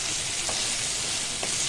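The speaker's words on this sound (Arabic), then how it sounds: "لازم الفاصوليا الخضراء تاخد الصدمه دي مع البصل كده ما شاء الله، يعني بتتحمر معاها" Green beans and onion fry together in a pan with a steady, close hiss of sizzling oil and a few faint stirring knocks; no one speaks.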